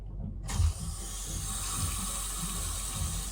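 A newly installed faucet in the head of a 1984 Chris-Craft Catalina 381 boat starts with a clunk and then runs a steady, close rush of water into the sink, with no talk.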